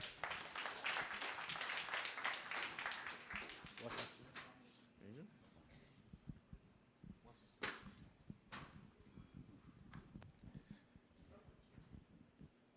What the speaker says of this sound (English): All right, round of applause, everybody.